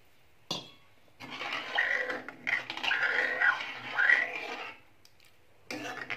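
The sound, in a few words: water poured into pan of sherni vegetable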